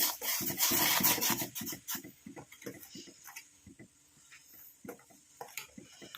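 Rhythmic scraping and rubbing of a spoon against a pot simmering on low flame, repeated strokes loud at first then lighter and more scattered, with soft bubbling underneath.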